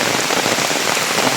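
Steady, heavy rain pouring down at Buruwisan Falls, a dense hiss of drops with no pauses and no voices.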